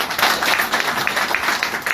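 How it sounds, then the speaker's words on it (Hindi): Audience at a seminar applauding together, a dense, steady patter of many hands clapping at close range for the full two seconds, with no talk over it. "डीजी के लिए फिर एक बार तालियां"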